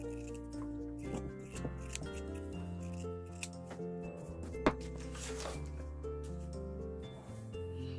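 Scissors cut cotton fabric for a child's cloth mask, a series of close, crisp snipping strokes at an irregular pace, quiet and with no talk over them.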